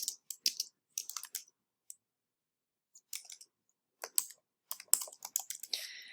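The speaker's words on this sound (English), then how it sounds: "So you'll want to type your name," Quick bursts of typing on a computer keyboard, clusters of crisp key clicks separated by short pauses, close and fairly quiet with no talking.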